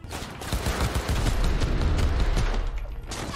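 Heavy, rapid gunfire from a powerful gun in the video game Cyberpunk 2077, a dense, loud stream of booming shots that runs through the whole stretch with barely a pause.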